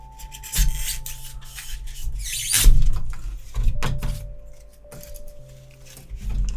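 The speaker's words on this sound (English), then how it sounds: "Just cutting our slope. Just see pieces of toothpick and bamboo skewer coming off with it." A blade cutting along the beveled edge of a glued block of toothpicks and bamboo skewers, irregular scraping and rasping strokes with small snaps, close and uneven, alone without talk.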